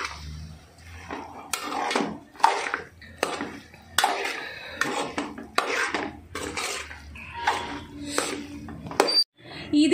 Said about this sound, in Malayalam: നന്നായിട്ട് ഇളക്കി യോജിപ്പിക്കാം.